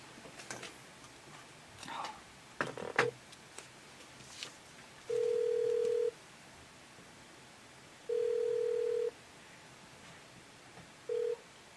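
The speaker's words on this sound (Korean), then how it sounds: "전화 좀 받자, 진짜." An office telephone rings during a live Korean radio show, giving three electronic tone bursts about three seconds apart, the last cut short, over a quiet background with a few soft clicks and knocks.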